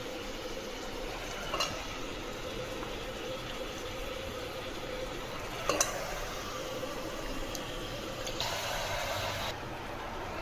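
Meat hits a hot pan of oil and turmeric and sizzles steadily, a loud, continuous frying hiss with a couple of faint clinks.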